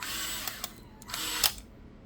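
An electric screwdriver drives a screw during a PC build, with short whirring bursts and a final burst before the motor stops, close and fairly quiet.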